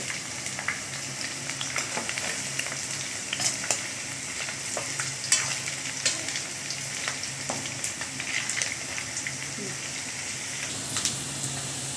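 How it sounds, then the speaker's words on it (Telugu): Fritters made from leftover cooked rice deep-fry in hot oil on high heat, with dense, steady sizzling and crackling pops throughout and occasional louder spits. "హైలో పెట్టుకొని మనం ఈ పొకోడి వేసుకోవాలండి త్వరగా ఉడికిపోద్ది"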